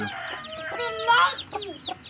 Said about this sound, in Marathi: कोंबडीची पिल्ली भारीच आहे ती